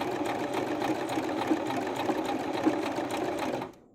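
Sewing machine running continuously as it stitches a small fabric pouch, a close, even mechanical whir that stops abruptly near the end, with no talk.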